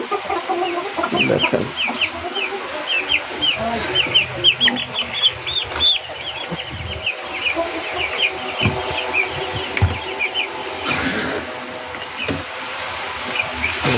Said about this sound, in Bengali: এই যে পাহাড়ি মুরগিগুলো নিয়ে আমি কাজ করতেছি দেখেন